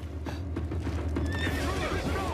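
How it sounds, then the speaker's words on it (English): A horse whinnies with a rising, wavering call while hooves clip-clop in a rhythmic series of sharp knocks beneath it, fairly close and loud. "They got horses, bro."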